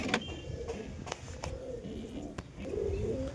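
Domestic pigeons, including a hen, coo softly in a home loft, a few low murmuring calls among small clicks and flutters, close by with no speech.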